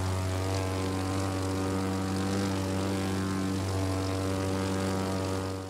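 Propeller airplane flying low over Dallas in the racing game The Crew 2, a steady, loud droning engine with a strong, even hum that holds unchanged throughout, with no talking.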